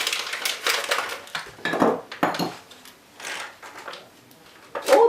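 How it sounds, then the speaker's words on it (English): Sugar poured into a sugar bowl in a kitchen, heard close and alone as bursts of gritty, crunchy pattering and light clinks against the bowl, in uneven spurts with brief quiet gaps between them. "I never knew sugar made noise when putting it into the sugar bowl."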